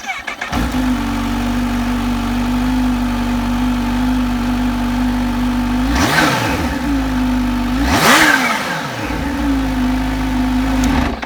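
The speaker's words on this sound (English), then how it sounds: "Doesn't sound like a bike that's got 200 horsepower at tick over, does it?" A warmed-up 2020 Kawasaki Z H2 motorcycle engine idling with a steady low tone, broken by two quick throttle blips around the middle, loud and close with no talking.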